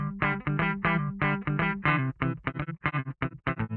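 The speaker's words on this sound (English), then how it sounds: "it creates a rich, wide sound which we call chorus" Synthesized sci-fi tone run through a chorus effect, with a distorted, wide, shimmering timbre; a series of sharp pulsing notes in an uneven rhythm, close and fairly quiet, with no voices.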